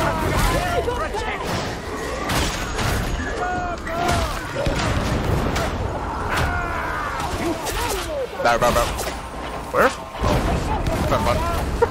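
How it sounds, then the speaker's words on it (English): Explosions and bursts of gunfire crowd a chaotic battle in the video game Warhammer 40,000: Darktide, a steady barrage of booms and crashes running throughout under a person's speech. "I have heard more explosions in this beginning than like entire maps."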